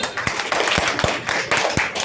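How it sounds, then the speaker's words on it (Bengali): A group of primary schoolchildren in a Bangla class clap together, quick uneven claps with a few sharper taps, close and loud over a short burst. "ওকে, ওর জন্য হাততালি।"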